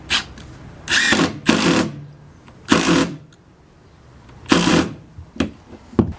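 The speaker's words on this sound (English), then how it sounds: "Let's go with the Milwaukee, see which one they're using. Looks like the tech mode according to the little picture." A Milwaukee impact driver in tech mode drives a screw in short bursts of rapid hammering clatter, several loud pulses separated by pauses, close by and with no talking.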